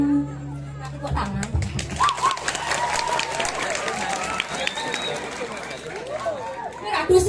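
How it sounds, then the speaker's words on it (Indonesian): Applause at a lively gathering with children present, scattered claps mixed into crowd chatter, shouts and voices talking over the top, fairly close and busy. "Tepuk tangan."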